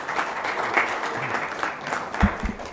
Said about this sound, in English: can you give a round of applause for Prof.